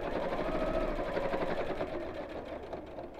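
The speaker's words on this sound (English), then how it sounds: "sewing really close to the edge, so maybe an eighth of an inch away from the edge" Close, steady whirring and rapid stitching from a sewing machine running near the edge of a fabric purse, continuous and moderately quiet, with no voices over it.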